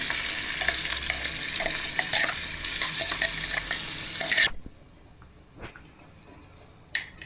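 Stuffed brinjal with masala going into a cooker in a Kannada masala ennegayi dish, hissing with a loud close sizzle and stirring for several seconds, then cutting to near silence with a couple of faint clinks.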